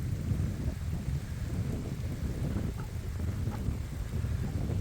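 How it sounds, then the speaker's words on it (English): Rain and thunderstorm on a farm, with steady dense rainfall, low rumbling thunder and gusty wind buffeting the microphone throughout, loud and continuous with no speech. "Well, the rain has come."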